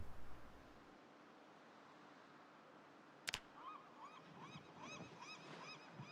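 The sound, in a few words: seagulls calling in video game Project Zomboid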